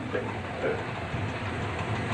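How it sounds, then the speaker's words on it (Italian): Train rolling by on the Udine–Tarvisio rail line, a steady rumbling roar of rail cars heard close and loud with no clear gaps. "Questo treno che è arrivato improvvisamente è uno scherzo dovuto alla cinepresa"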